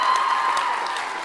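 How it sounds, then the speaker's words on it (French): Steady applause from a theatre audience at a Mamma Mia musical fills the short stretch, dense clapping with no pauses, fairly loud and close. "Donc, un grand applaudissement."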